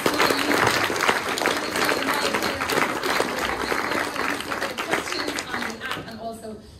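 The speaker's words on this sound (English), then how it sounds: "can I have a huge round of applause for our amazing speakers?" A large audience claps in sustained applause for the speakers at a policy panel on national mapping projects. The dense clapping holds steady and loud, then starts to thin toward the end.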